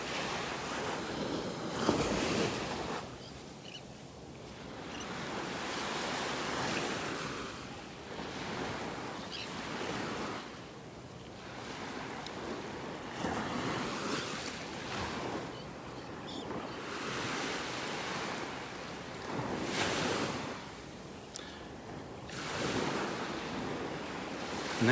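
Surf breaks and washes steadily along a beach in North Naples, Florida, with wind buffeting the microphone; rolling waves swell and recede in continuous loud cycles, no voices.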